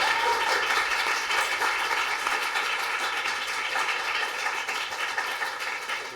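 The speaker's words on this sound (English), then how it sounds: "a round of applause for" A room claps for the quiz night winner, steady dense applause from a crowd sustained throughout without a break, loud and close, no talking over it.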